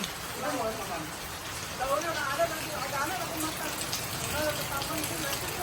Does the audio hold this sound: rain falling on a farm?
yes